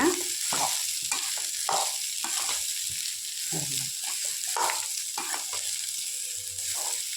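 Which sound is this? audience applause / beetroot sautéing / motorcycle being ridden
beetroot sautéing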